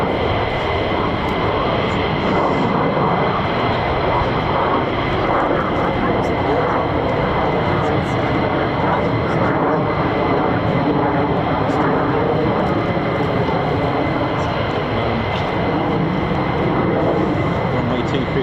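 A steady, loud roar of fighter jet engines over an RAF base holds at a constant level throughout, broadband and continuous with no breaks or obvious passes.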